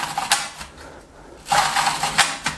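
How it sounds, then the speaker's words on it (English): The built-in focal-plane shutter of a Speed Graphic 4x5 large format press camera is wound up by hand, producing close, dry mechanical ratcheting clicks in two bursts with a short pause between them. "This is the shutter winding up inside"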